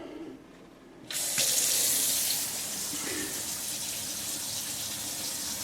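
Tap water gushes steadily into a newly plumbed kitchen sink during a leak test, starting abruptly after a quiet moment and then running on in a continuous, close splashing hiss.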